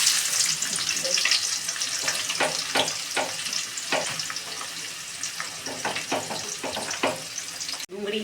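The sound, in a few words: onion frying in oil for pulao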